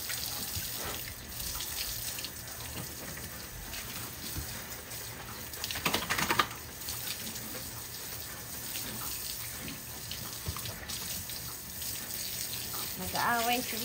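Water runs steadily from a tap or hose for pigs on a Philippine farm, a continuous splashing wash with a brief louder gush midway, while people talk faintly and shout to the animals.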